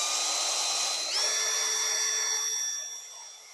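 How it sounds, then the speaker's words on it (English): A wire wheel spins against small rust spots on metal, giving a steady, close, high-pitched whine that climbs slightly in pitch and fades toward the end. "I got the wire wheel ready to hit these little rust spots that formed"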